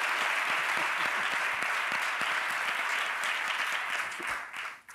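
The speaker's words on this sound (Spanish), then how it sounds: "Un aplauso a Miguel Campos." Studio audience applause on a Spanish late-night talk show: a dense, steady round of clapping that fades out over the last second.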